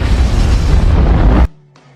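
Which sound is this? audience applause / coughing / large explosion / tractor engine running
large explosion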